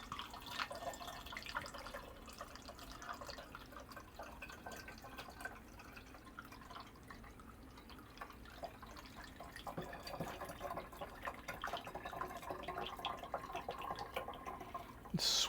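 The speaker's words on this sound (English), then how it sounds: "I am going to strain this again because it's got some chunky bits in it" Beet tonic being strained into a bottle fitted with a sealer, heard as a quiet, steady trickle and drip of liquid close by, with light splashing and a few soft clinks and no talking.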